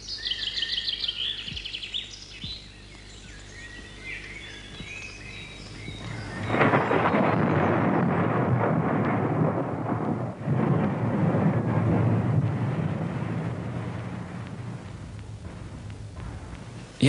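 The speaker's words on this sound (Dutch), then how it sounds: "En het volgende moment kan er een donderbui losbarsten" A thunderstorm opens with a few birds chirping, then a heavy roll of thunder breaks in and steady rain pours on, with further rumbles rising and fading.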